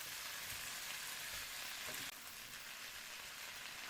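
Tofu and celery sizzle steadily in yellow bean sauce while being stirred, a dense, continuous frying hiss that drops slightly partway through, with no voices.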